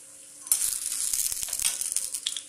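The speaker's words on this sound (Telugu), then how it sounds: "వేగింది తీసి నీళ్ళలో వేసుకుంటున్నాను నేను" Freshly fried lentil vadas for dahi vada are dropped from hot oil into water, producing a burst of fizzing sizzle that crackles and hisses for about two seconds before fading, with no speech.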